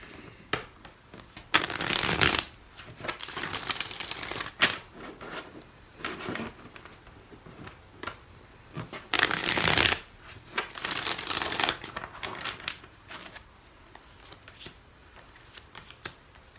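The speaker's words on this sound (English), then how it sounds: "Two more shuffles for Gemini." A deck of tarot cards is shuffled by hand in repeated riffling bursts, loud crisp flurries separated by softer handling and tapping, with no talking.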